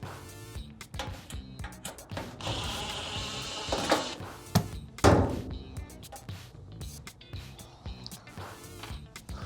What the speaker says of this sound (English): There's one screw here we're going to remove. Again, this is also Phillips.